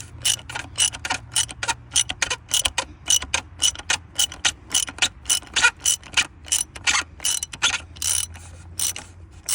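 A 24mm ratchet breaks loose the oil filter housing cap on a 2015 Dodge Charger SE 3.6 engine, giving a rapid run of crisp, close clicks in uneven bursts, with no talking.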